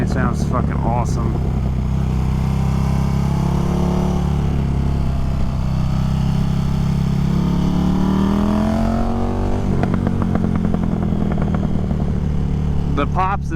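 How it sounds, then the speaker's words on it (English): A KTM 1390 Super Duke R Evo with a Dominator exhaust and OFT Stage 2 flash drones loudly up close, rising through revs with crackling pops as it falls; someone talks over it. "The pops and the bangs are a lot on this thing."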